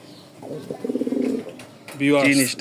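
Soft, throaty cooing from racing pigeons close by, a few rolling calls with a brief pause between them.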